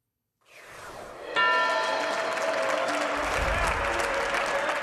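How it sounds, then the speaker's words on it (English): A crowd bursts into sustained applause as the New York Stock Exchange closing bell rings out with bright, repeated clangs, the clapping continuing loudly to the end. "You hear the applause? That's the closing bell on the New York Stock Exchange."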